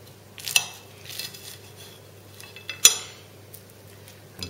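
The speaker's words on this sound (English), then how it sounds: "I'm just going to cut a corner off here" Cutlery cuts into toad in the hole on a plate, making a few sharp clinks and scrapes spaced over a few seconds against a quiet background.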